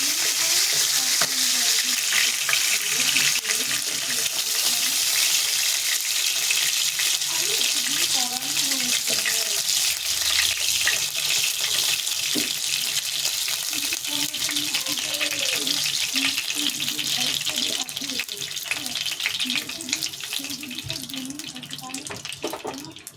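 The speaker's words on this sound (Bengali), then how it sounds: "দিয়ে দেবো চিংড়ি মাছটা ভাজার জন্যে।" Loud, continuous sizzling of shrimp frying in hot oil runs throughout, with a person talking quietly beneath it and the hiss easing slightly near the end.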